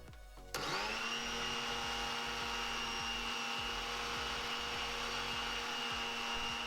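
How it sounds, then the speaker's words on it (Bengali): A mixer grinder starts abruptly and runs loudly, its jar grinding coarse semolina into a paste, a steady high whine with a rough churning rattle that holds evenly to the end, with no talking. "তার জন্য একটা মিক্সিং জার নিয়েছি সুজিটা দিয়ে একটু ভালো করে পেস্ট করে নিতে হবে"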